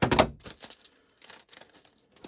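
Packing tape is pulled and pressed onto a package being prepared for posting, heard as a loud crackling rip at first and then softer sticky tearing and rustling, close to the microphone, with no talking.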